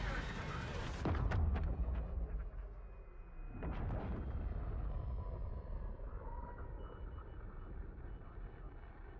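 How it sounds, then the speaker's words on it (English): A nuke goes off in the Call of Duty Warzone video game, hitting a fire station beside the stadium in Verdansk. A huge blast bursts in with a deep rumbling roar, followed by a second surge and a long fading rumble. "the nuke went off, it hit the fire station next to stadium, and basically there was a massive explosion"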